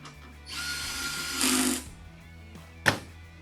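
A power drill driving screws whirs steadily for a couple of seconds, rises briefly in pitch, then stops, followed by a sharp click or clunk.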